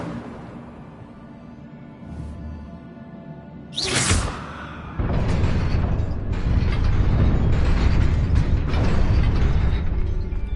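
An Incendio fire spell cast in the Hogwarts Legacy video game bursts out with a sudden bright whoosh, then gives way to a loud, sustained roaring, crackling rumble, with no voices.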